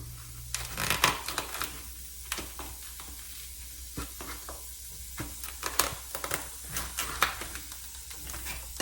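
Ground beef sizzles in a hot pot for lasagna soup, a soft crackling hiss broken by sharp scraping stirs, close and fairly quiet.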